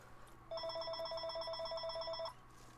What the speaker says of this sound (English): Of course the phone rings again.